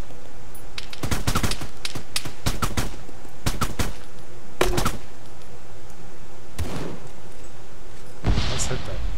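Gunfire in the Arma Liberation mission: loud, close bursts and single shots cracking in clusters with gaps between, plus a duller blast near the end, over steady background noise.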